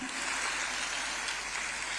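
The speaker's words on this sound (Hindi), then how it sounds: "आपकी तालियां बता रही हैं कि कितना अभिभूत हैं आप।" A large crowd at an outdoor political launch event applauds continuously, a steady, distant-sounding roar of many hands clapping with no clear talk over it.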